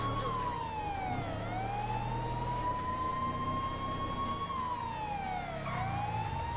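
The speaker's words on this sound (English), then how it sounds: "I've been blaring my sirens the whole entire time I was running." A wailing police siren in Grand Theft Auto V sweeps up and down continuously over a low engine rumble, loud and steady throughout with no voices.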